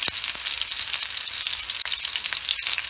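Salmon fillet frying in a pan over medium-high heat, giving a steady, loud crackling sizzle that holds throughout with small pops and one brief dip near the end.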